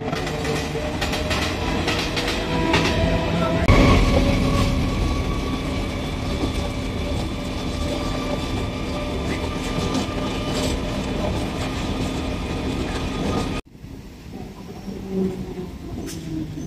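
A train travels from Howrah toward Medinipur station in West Bengal with a loud, steady rumble and rail clatter heard from on board, which cuts off sharply near the end into quieter ambience.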